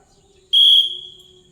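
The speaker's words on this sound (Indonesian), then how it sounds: "Kalau peluit dibunyikan, mulai." A single short, shrill whistle blast starting a school physical education activity, loud and close, ringing for about half a second before fading into a quiet background.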